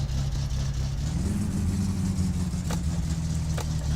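Car engine in the game My Summer Car, started with the choke pulled, a low steady rumble that lifts briefly in a rev, alone and up close.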